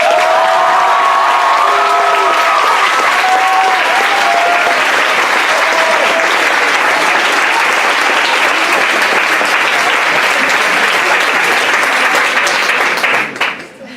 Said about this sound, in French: je vous invite à applaudir Maxime Erard à l'affirmative